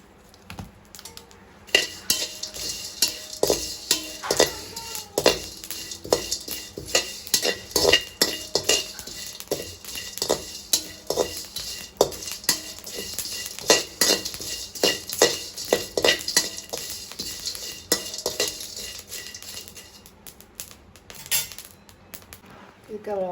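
Dry spices, dried red chili and curry leaves, being roasted in a pan for Jaffna-style curry chili powder, with a utensil scraping and clinking against the metal in steady, irregular strokes across a faint dry crackle, with occasional speech.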